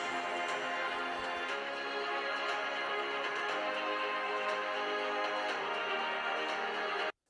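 Dense, steady music plays through Razer Blade 16 (2023) laptop speakers at 50% volume, a moderate level, full and continuous for about seven seconds before stopping abruptly.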